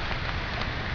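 Steady, dense rainfall in a forest near a waterfall, a constant loud hiss of water with no letup or voices throughout.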